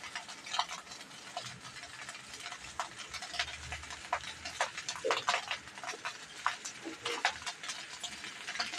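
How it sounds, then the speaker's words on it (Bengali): A spatula scrapes and taps repeatedly in a pan as chicken, prawn and egg fried rice is stirred with black pepper, an irregular run of light clicks over a soft sizzle. "এভাবে ভালো করে নাড়িয়ে নেব।"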